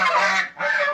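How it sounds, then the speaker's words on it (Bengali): Ducks and geese, with native chickens nearby, honk and quack on a farm in one close, loud burst that dips briefly midway. "এখানে হাঁস আছে, পাতি হাঁস আছে, রাজহাঁস আছে,"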